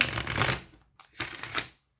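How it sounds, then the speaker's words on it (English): Tarot cards riffle and flutter in two quick shuffling bursts separated by a brief pause, close and fairly soft. "I'm just going to shuffle them one more time"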